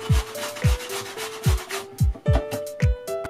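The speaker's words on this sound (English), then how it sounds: "We wanna grate this into a pulp, but because there's a bunch of seeds in the middle, I'm gonna work my way around the outside of the cucumber" A cucumber is grated into pulp on a grater in repeated rough rasping strokes, about eight quick scrapes close up and fairly loud, with no talking.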